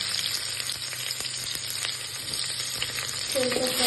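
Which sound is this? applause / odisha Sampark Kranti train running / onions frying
onions frying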